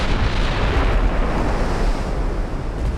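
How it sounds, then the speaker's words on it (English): A torpedo strikes a warship in the naval game Ultimate Admiral Dreadnoughts, giving a loud, sustained roaring rumble like a heavy explosion blended with crashing sea and wind that stays dense and unbroken throughout. "Hit by another torpedo."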